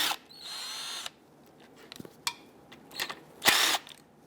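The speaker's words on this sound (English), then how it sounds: "take a 10mm socket and remove all the bolts and the 2 mounting nuts that hold this" Ratchet with a 10mm socket working oil pan bolts loose on a 2012-2017 Toyota Camry 2.5L four-cylinder, heard as close, loud bursts of rapid clicking with brief metallic taps and pauses between them.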